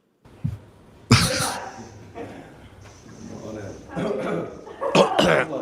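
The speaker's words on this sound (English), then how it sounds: "Cover your mouth when you cough." A sharp cough bursts out near the start, with rough throaty bursts later, amid background chatter and room noise.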